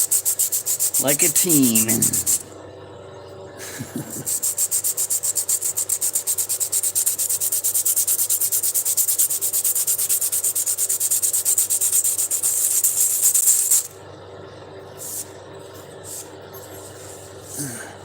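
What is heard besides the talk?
polishing a rock by rubbing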